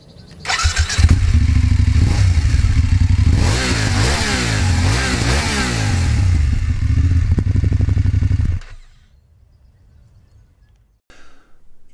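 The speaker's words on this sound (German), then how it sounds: "wie der Motor klingt, das wollen wir uns jetzt mal gemeinsam anhören" Mid-size Chinese-made adventure motorcycle with a six-speed gearbox and chain drive starts up and runs, its engine loud and close with a rising and falling rev in the middle, then cuts off abruptly, leaving near silence with a faint clatter.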